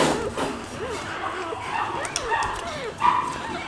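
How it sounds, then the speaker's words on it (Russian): A bulldog whimpers and gives small yips close by in a washing area while people talk over it. "какой бульдог. Прям бульдожный бульдог."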